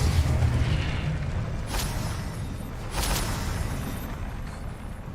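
A Confringo spell explosion in the video game Hogwarts Legacy: a deep, rumbling boom that rolls on with a few brief bursts on top, loud and sustained before fading slightly.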